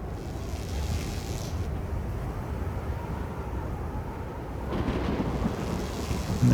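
Storm ambience in the video game The Falconeer: a continuous low rumble of thunder and wind with rain-like hiss, swelling slightly near the end.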